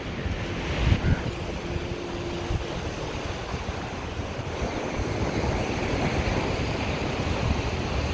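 Ocean waves at Calangute Beach, Goa, a steady soft wash of surf with wind rushing across the microphone, fairly faint and continuous, with a short low engine hum of a returning fishing boat early on.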